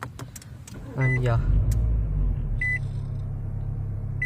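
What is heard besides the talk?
2014 Nissan Altima engine starting with push button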